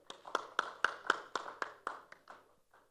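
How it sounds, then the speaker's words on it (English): About ten sparse, evenly spaced claps sound faintly in a conference hall during an HR leaders' panel, the kind of thin applause that follows a speaker's introduction, then fade out. "Can we have a huge round of applause for him?"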